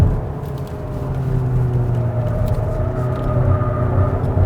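Kia Cadenza 2.5 sedan on Michelin tires taking a corner, a steady low engine and road rumble heard from inside the cabin, with no talking.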